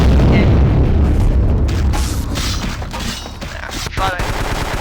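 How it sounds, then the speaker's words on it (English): A grenade fired in the action role-playing game Vampire: The Masquerade – Bloodlines bursts into a heavy, loud boom with a long rumbling tail, followed by sharper crackling hits as it fades. "Excuse me if I launch a grenade in here."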